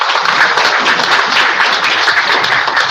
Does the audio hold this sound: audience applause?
yes